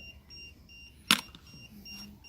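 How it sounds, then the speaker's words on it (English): Faint, high electronic beeps repeat softly in the background of a quiet room, interrupted once by a sharp click. "What's beeping?"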